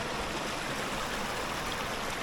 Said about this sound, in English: I'm pretty sure I hear some kind of a cascade or waterfall up ahead